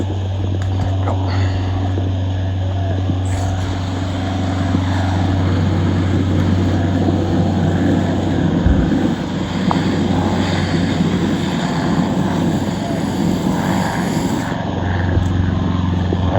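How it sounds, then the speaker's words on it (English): A low-flying propeller airplane drones overhead on the Fourth of July, a steady loud rumble lasting throughout, mixed with gusts of wind buffeting the microphone. "Plane is awfully low."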